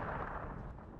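Artillery fire in the WARNO war video game: a dense, rumbling blast wash that fills the short moment with heavy low boom and crackle, steady and loud throughout.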